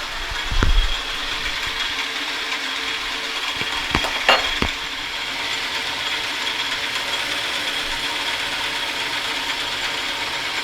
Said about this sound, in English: I'm going to cut a little ledge on this to put that sprocket on